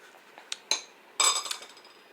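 A spoon clinks against a pot or bowl of homemade vegetable soup during tasting, giving a few sharp, bright taps spread across the moment, close and fairly faint with no talking.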